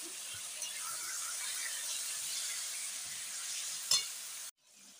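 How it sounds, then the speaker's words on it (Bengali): Chicken pieces fry gently in a pan with a steady, even hiss for several seconds. A brief clatter of stirring comes near the end, then the sound cuts off abruptly. "চিকেনটা দিয়ে হালকা ভেজে নিচ্ছি।"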